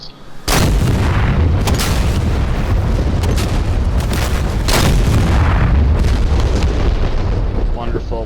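Rockets fired from an AV-8B Harrier in the DCS combat flight simulator burst in a heavy, rumbling barrage of booms, loud and sustained for several seconds with repeated sharp impacts layered over a continuous roar.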